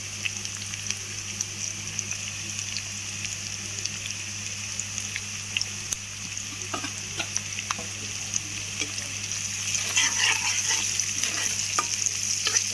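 Onions and turmeric fry and sizzle in a pan while being stirred for a drumstick, brinjal and potato curry, a steady close hiss with scraping stirs that grows a little louder toward the end.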